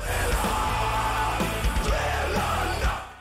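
A drawn-out, raw vocal scream from a heavy metal cover of a song, loud and sustained over distorted band instrumentation, with the shout rising and straining across a few seconds.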